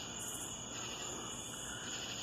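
Cicada making a continuous loud, shrill buzzing drone throughout, with steady intensity and no pauses, close by.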